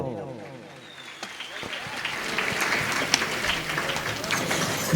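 Applause breaks out at a devotional singing gathering in a village near Raipur, clapping that swells after a quieter, tonal opening and grows into a steady, fairly loud patter mixed with other room sound.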